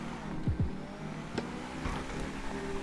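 A car in GTA V launches and accelerates from a standstill, with two quick upward engine sweeps early, then a shift and more revving under a steady engine hum.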